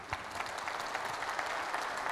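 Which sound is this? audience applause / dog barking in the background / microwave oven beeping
audience applause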